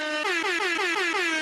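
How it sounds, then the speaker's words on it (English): A single sustained air horn blast, loud and close, its blaring multi-tone pitch wavering slightly across the whole burst with no voices. "Here, we got to do the Friday air horn."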